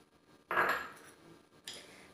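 Two whole eggs go into a mixing bowl for homemade bakery-style Brazilian cornbread (broa caxambu): a sharp clink against the bowl, then a lighter second tap a moment later, close and clear in a quiet kitchen.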